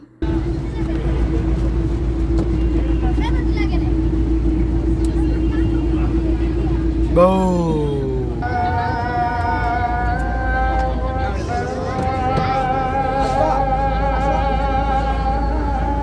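Water bus on Hatirjheel lake with its engine running steadily close by, a low continuous drone, while people talk over it and a brief whistling tone rises partway through.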